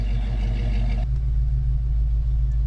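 A 1974 AMC Javelin running on the road, a steady loud low engine rumble throughout with a shift in tone about a second in, no talking.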